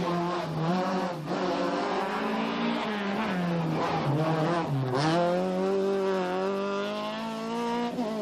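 A Formula 2 rally car prepared by Gordon Spooner, racing on the 1995 Ulster Rally, drives nearby. Its engine note rises and falls as it revs through gears, and the tone stays loud and continuous throughout.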